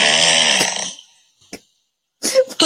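Loud snoring captured overnight by a sleep-tracking phone app: one long rasping snore fades out, then after a pause a short snort and another rough snore start, close and alone.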